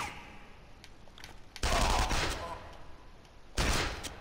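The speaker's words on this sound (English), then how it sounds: "Gunfire." Gunfire in the stealth action video game Counter Spy: two loud bursts of shots, the first longer and the second shorter, rising out of quieter in-game background sound.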